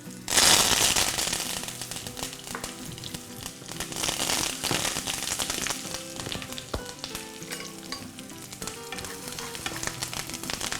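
Curry leaves, green chillies and garlic crackle in hot oil for a tempering, as part of making Chicken 65: a loud, dense sizzle with sharp pops that runs steadily throughout, with no voices.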